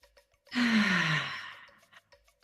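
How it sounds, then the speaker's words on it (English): One long, deep breath, a breathy inhale-exhale sigh lasting about a second and a half, close and alone in a quiet room. "And a third deep breath."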